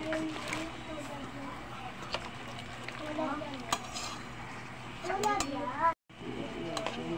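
Pechay dropped into sinigang broth with stone fish, simmering in a pot: soft bubbling, stirring and clatter of a utensil against the pot, with voices talking over it.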